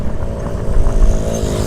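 Several old motorcycles ride past on a mountain road near Merapi, their engines a steady, loud, low rumble that swells briefly in the middle as they pass close by.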